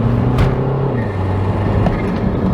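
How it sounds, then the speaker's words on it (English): BMW 123d diesel engine pulling under load inside the car, a steady low drone with a faint turbo whistle and a rising whine partway through. "makes some good turbo noises at least"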